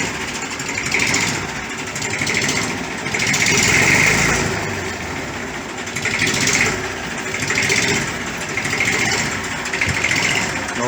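An old Fordson Dexta tractor engine idles close by with a continuous rattling diesel chug, its loudness gently swelling and fading in a slow regular pulse.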